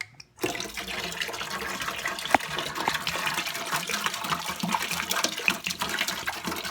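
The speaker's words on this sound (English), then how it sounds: "gotta put some amazing water in here" Water pours steadily into a container for winemaking, a continuous close splashing and trickling that starts after a brief pause and runs on evenly, with no voices.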